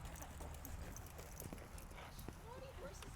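Horses' hooves clip-clop on the ground of a riding arena, a few scattered thuds mixed with a dog's yips and whimpers while people talk over them.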